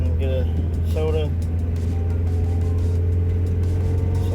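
Honda wagon with an H22 engine driving down a street at steady speed, a constant low engine drone and road rumble throughout, with a few faint tonal chirps early on.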